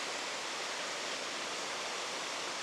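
A waterfall pouring steadily, a dense, even rush of water that fills the whole sound without pause, heard alone and fairly close.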